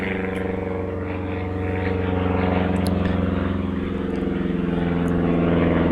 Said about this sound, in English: let's listen to a UND student fly over